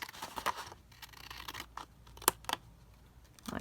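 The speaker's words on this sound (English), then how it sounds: "I'm just going to trim up those little bits there" Scissors trimming the paper edges of an altered file folder in a few quick, close snips with light paper rustling between them. No one speaks.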